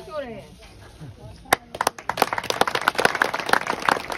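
Audience at a Haryana regiment maha panchayat rally breaking into clapping after a voice speaks, the applause starting with a few sharp claps then swelling into dense, loud clapping to the end.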